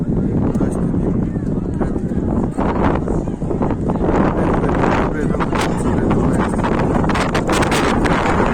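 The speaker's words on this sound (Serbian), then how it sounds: "evo sad jak vetar" Strong desert wind on the Giza plateau near Cairo, roaring and buffeting the microphone loudly and continuously, with muffled voices beneath.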